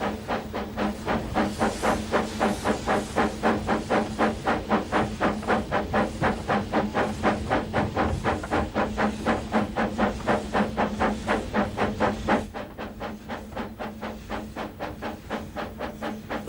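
A Talyllyn Railway narrow-gauge steam train chuffs along the line in Wales, its regular, evenly spaced exhaust beats loud and close over a hissing, rumbling background, with the rhythm holding steady throughout.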